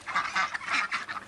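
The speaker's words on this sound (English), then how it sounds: "See that boy see that duck with the green head" A drake mallard with a green head on a farm gives a run of nasal, raspy quacks in quick rhythmic bursts, close and fairly loud, without voices.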